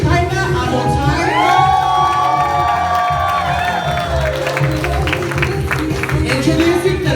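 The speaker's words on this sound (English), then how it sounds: "A round of applause for Miss Shekinah Amotai." Guests at a 2017 Samoan wedding cheer, whoop and clap for the entering bridal party, with high excited shouts rising over a loud, lively crowd and a pounding music beat underneath.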